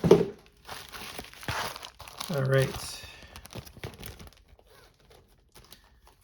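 Plastic bags crinkle and rustle as a package of knives sent by a friend is opened, a few close crumpling bursts with someone speaking briefly over them.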